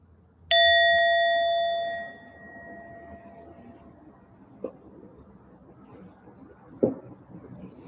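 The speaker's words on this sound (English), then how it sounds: "I'm going to ring the bell" Meditation bell struck once, a clear bright ring that holds and fades over about a second and a half, followed by a quiet room with a couple of faint soft knocks.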